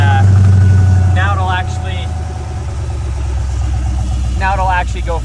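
A 5.0 Ford Ranger engine idles loud and steady at close range while the truck creeps forward in gear, its deep even rumble running throughout as someone talks over it.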